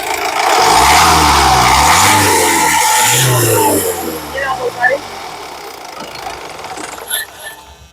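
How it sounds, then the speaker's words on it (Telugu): A 2015 Honda Amaze E engine runs with a steady low rumble that settles to a quieter idle, with a person talking over it. "ఇంజన్ నాయిస్ చాలా సైలెంట్గా అయితే ఉందండి"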